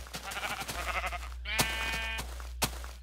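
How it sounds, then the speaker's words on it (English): Several sheep bleat in a Minecraft-style survival game, repeated tonal calls stacked over a steady low hum with a couple of sharp clicks, moderately loud and close. "Unfortunately, I'm going to have 5 million sheep,"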